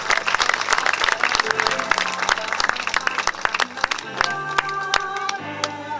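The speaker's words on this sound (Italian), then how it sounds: "Accompagniamo un applauso Fabio, Marchese Aragona." Lively applause from a crowd at an awards ceremony, sharp dense claps continuing throughout, with music playing underneath.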